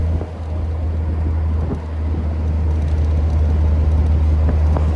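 A 1980 Fiat Spider 124 driving along with its engine droning low and steady, a constant deep rumble mixed with road and wind noise and no talking.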